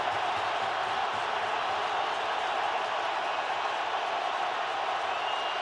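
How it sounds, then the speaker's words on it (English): Roaring stadium crowd at a 2007 NFL game between the San Diego Chargers and Baltimore Ravens, a dense unbroken wall of loud cheering and noise on a fourth-down play, steady throughout. "Crowd trying to help the defense."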